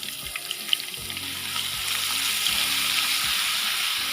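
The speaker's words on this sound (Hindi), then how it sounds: "चंद सेकंड इसे अच्छे से फ्राई करना है" Garlic ginger paste fries in hot oil for white bhindi, giving a steady loud sizzle with occasional spattering pops and faint clinks of a utensil against the pan.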